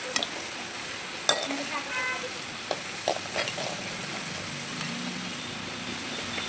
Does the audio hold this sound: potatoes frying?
yes